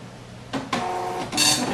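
An office printer prints a patient card, giving a short mechanical whir that starts after a soft click, steadies into a feeding hum, then ends in a brighter rushing burst as the sheet comes out.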